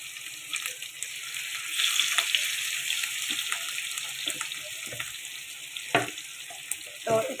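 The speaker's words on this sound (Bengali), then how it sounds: "তো এটাকে এখন একটু ডিপ ফ্রাই করে ওদের দিব" Large rohu fish pieces deep-frying in oil, a soft, even crackling sizzle with a few clinks and knocks of utensils, fairly quiet and close with no talk.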